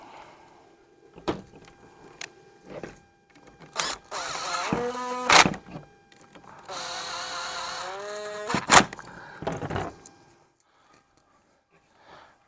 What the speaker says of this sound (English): I'm going to go ahead and just tighten down the screws here,